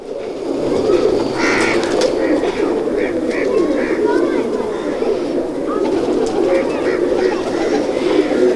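Breeder pigeons coo on a rooftop loft, a dense low warbling chorus of repeated coos close by, with voices of people talking underneath.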